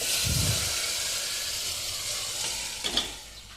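Chopped spring onion greens go into hot oil in a pan, setting off a loud, close hiss of steam and sizzle that fades slowly. A couple of short scraping knocks follow near the end, with no voice.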